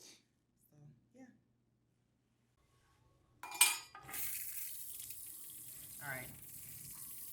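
Tap water running into a sink to rinse a front lace wig after conditioner, starting with a burst of splashing and continuing as a steady close stream; a brief voice speaks before the water begins.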